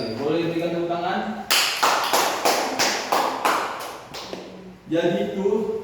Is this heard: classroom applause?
yes